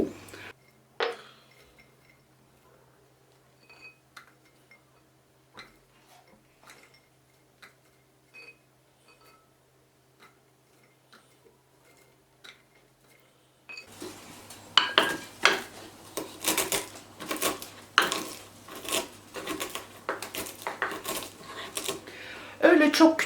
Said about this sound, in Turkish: Biz bu arada iç harcını hazırlayalım, cevizleri dövelim.